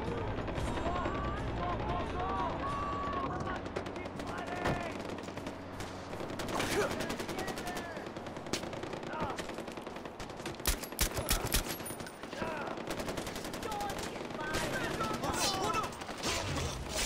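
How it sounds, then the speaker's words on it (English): Gunfire in the video game Far Cry 4, repeated bursts of shots and rattling automatic fire with heavy crackling volleys, loud and continuous over a busy background, with voices talking at times. "I hear a lot of gunfire"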